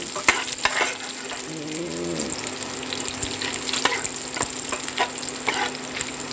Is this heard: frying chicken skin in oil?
yes